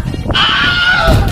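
A voice imitating a goat, giving one loud, strained, wavering bleat of about a second, close to the microphone with some crowd murmur beneath.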